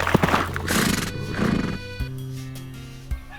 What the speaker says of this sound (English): a stranger came galloping down the road upon a horse